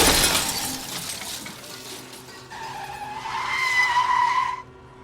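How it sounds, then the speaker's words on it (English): Film car crash with loud tires skidding and screeching, then glass and metal shattering in a sharp burst, followed by a sustained wailing screech that cuts off abruptly near the end. "all stories have one very loose connection: a car crash"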